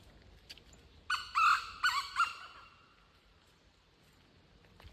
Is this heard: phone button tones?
no